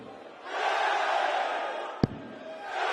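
A darts arena crowd swells into a sustained roar of excited cheering, loud and distant-filling, with a sharp knock cutting through near the end.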